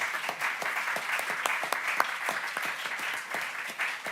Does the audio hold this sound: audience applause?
yes